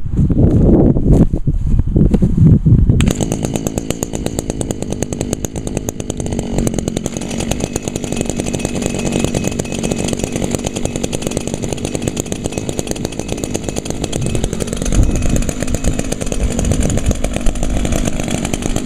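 Two gas string trimmers, an Echo SRM 2400SB and PAS 230, buzz loudly together at high revs, a continuous raspy whine close by with slight changes in pitch.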